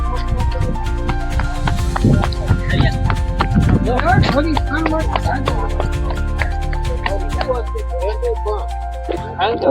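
A mare's hooves clop at a steady walking pace amid loud festive music and background noise at a village wedding.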